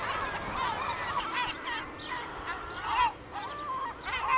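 Yellow-legged gulls call at a coastal garbage dump, a busy overlapping chorus of harsh, honking cries from several birds at middle distance, with no voices.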